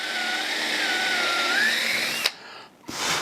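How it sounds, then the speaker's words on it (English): A 1/4-inch drill bit bores a hole at a marked spot in wood for a brass pin, a steady high whine running loud for about two seconds before stopping abruptly, followed by a brief quieter tail and a short restart. "I'm going to take my 1/4-inch drill bit again because my pin is a 1/4-inch. Run that right in there at that 5-inch mark."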